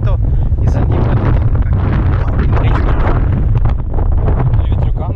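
Strong gusts batter a microphone at a roadside park by the bay near El Cerrito, on the way to San Francisco, making a loud, continuous low roar and rumble with no break across the whole stretch.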